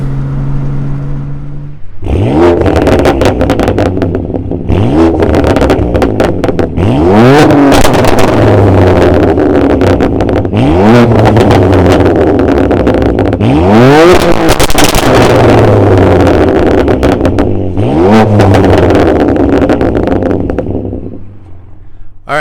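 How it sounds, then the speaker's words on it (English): BMW F80 M3 running a Bootmod3 Stage 2 tune, accelerating hard through repeated full-throttle pulls, each engine roar climbing in pitch before a quick shift, loud and close throughout. "there is my first initial drive, going all out, having fun with the new stage tune from Bootmod"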